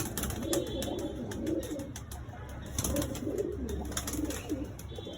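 A loft of domestic pigeons, both older birds and young breeding birds, gives low soft cooing in overlapping repeated phrases. The calls are close and steady, against a faint busy background hiss.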